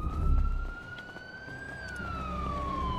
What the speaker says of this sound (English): That's the second time a ambulance has passed by.